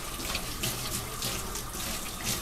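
Tap water runs steadily and loudly into a sink while a baby bottle brush is rinsed under it, a continuous close splashing rush with no voices.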